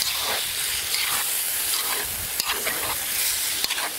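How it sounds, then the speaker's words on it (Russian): Meat sizzles and crackles steadily in a kazan over a campfire while plov is being made, a continuous close frying hiss with occasional sharp pops and no talking. "Вот мясо до полуготовности пожарилось"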